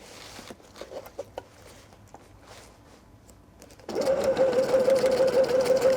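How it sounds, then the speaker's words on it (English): Sewing machine top stitching down the side of a drawstring backpack: a few quiet handling clicks and rustles, then the motor kicks in loud and close for a steady, fast run of stitches. "And just top stitch all the way down on this side"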